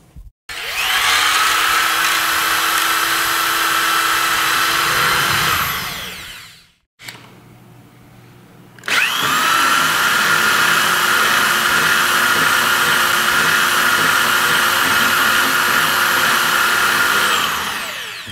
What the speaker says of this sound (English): By reversing the drill and using full power, you can effectively degas a 6-gallon batch of wine